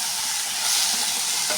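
Masala with asafoetida and turmeric is stirred in a hot pan, a close, continuous sizzle with soft scraping and no voices.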